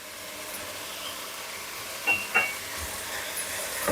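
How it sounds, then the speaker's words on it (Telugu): Onions fry in a pan for egg curry with a steady, moderate sizzling hiss. Two brief clinks of a utensil land near the middle, and there is no talking. "ఉల్లిపాయలు బాగా మ్యాష్గా వేగాలి"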